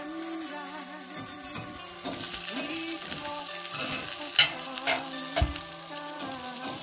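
Thick seasoned pork chops searing in a hot pan at medium-high heat, a strong close sizzle with light scraping and stirring sounds, a couple of louder sputters near the end, no talk.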